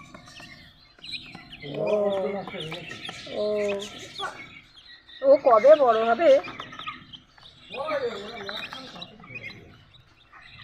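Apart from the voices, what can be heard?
chickens and chicks chirping at market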